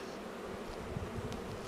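Honey bees buzzing around an open hive, a close, steady swarm drone with faint handling noises underneath, no voices.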